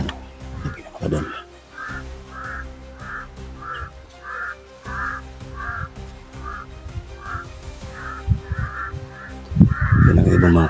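Kadol birds circling overhead, giving a regular series of repeated cawing calls at a moderate distance, with a person talking and rustling nearby underneath.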